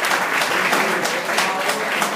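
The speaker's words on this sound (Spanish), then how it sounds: "Un aplauso para ese muchacho." Congregation in a church service applauding, a brief burst of dense, lively clapping from many people, loud and close, with no voices standing out.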